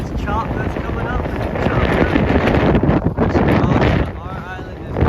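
Strong wind buffets the microphone aboard a 42-foot sailboat sailing solo through choppy water off a point, a steady loud roar with water wash beneath and a voice speaking over it.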